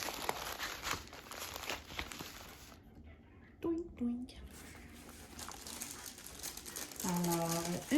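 Crinkly rustling of a painted canvas being rolled up, a close, soft crackle with a few sharper crunches, then a brief pause and more rustling at the end.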